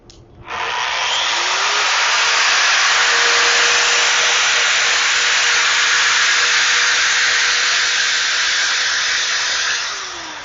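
Alloyman electric drywall sander motor switches on with a click and runs as a steady, loud, close whirring hum for about ten seconds before winding down.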